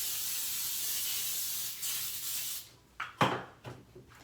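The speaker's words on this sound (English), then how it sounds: "I'm going to spray the pan just lightly." Non-stick baking spray hisses from a can onto a baking pan in one steady spray lasting a couple of seconds, followed by a few light clicks and taps of the pan.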